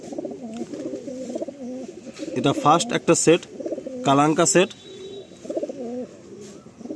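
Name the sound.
Madrasi and Andhra pigeons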